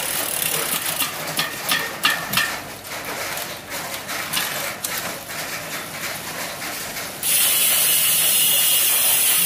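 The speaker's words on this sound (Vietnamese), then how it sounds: "Chuyển động full 105 cực kỳ cao cấp của dòng Shimano với 11 tầng lít và 2 tầng đĩa cho 22 tốc độ khác nhau, đi xuống cực kỳ ngon lành" A Shimano 105 22-speed drivetrain on an aluminium road bike clicks and ticks through gear changes in quick ratchet-like bursts, then gives way to a steady mechanical hiss near the end.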